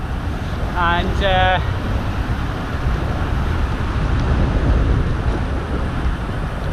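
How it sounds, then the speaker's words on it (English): Steady wind roaring across the microphone while cycling on a long-distance road ride, a constant loud rush throughout with a brief word of speech early on. "the wind's in the right direction"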